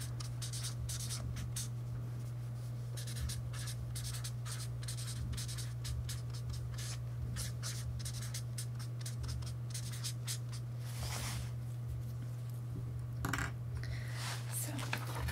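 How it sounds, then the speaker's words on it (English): A pen drawing a person on paper during a soft-spoken role play, with close, quiet scratchy strokes in short bursts over a constant low hum. "So I'll just draw somebody."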